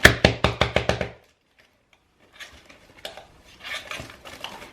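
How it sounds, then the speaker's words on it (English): A metal spoon raps and scrapes used coffee grounds out of the filter basket of a Breville One Touch coffee machine: about six sharp knocks in quick succession, then a pause and softer, irregular scraping. "So I'm just gonna clean that, scrape the coffee out"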